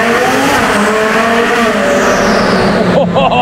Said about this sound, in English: Oh, you can hear the turbo